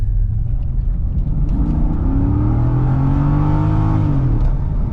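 Chevrolet C6 Corvette with the Z51 package driving on the road, its V8 rumbling loud and close, then revving up through a rising acceleration pull before easing off.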